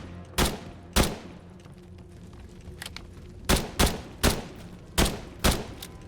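Gunfire in a video game: about eight sharp, loud shots come close by in irregular pairs and singles, with quiet gaps between them and no talking.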